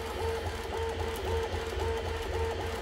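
A 3D printer laying down its first layer on a textured plate: a steady mechanical whir with repeating stepper-motor tones rising and falling in a regular rhythm, close and continuous, with no voices.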